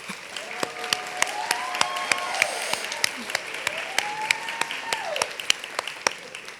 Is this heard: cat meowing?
no